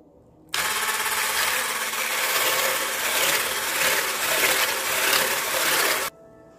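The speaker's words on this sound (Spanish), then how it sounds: "lo voy a batir más o menos por un minuto para agregarle el azúcar" An electric hand mixer beats pumpkin cupcake batter with vanilla, running as a steady, loud whir for about five and a half seconds before cutting off abruptly.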